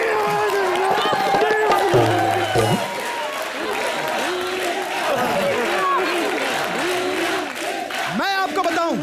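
A studio audience on a televised comedy show claps loudly in a steady, dense wash that lasts throughout, with a voice talking over it.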